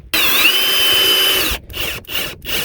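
A cordless power drill drives 3/4-inch screws to secure a battery box to flooring, a loud close whine for over a second, then short bursts of driving with brief pauses between them.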